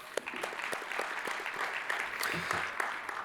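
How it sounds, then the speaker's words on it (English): Audience at a plenary session giving a round of applause, a steady dense patter of many hands clapping throughout at moderate level. "we should still clap for Christine"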